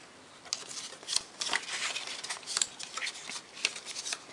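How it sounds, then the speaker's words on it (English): Pre-scored cardstock folded along score lines for a paper party favor, giving a run of faint, crisp creasing and paper rustling clicks, close and quiet. "So I'm just going to fold all of my lines, and I just use my score pal to score my lines here."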